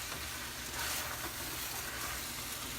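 Wide Thai pad see ew rice noodles fry with sauce in a pan, a continuous close, bright sizzle with gentle stirring, no voices.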